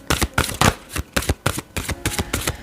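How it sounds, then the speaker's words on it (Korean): A deck of oracle cards, unicorn cards, gets shuffled by hand for a tarot-style reading, a loud, close series of rapid papery riffles and slaps in a steady, choppy rhythm. "자, 그러면 제가 유니콘 카드 뽑아서 마무리를 할게요."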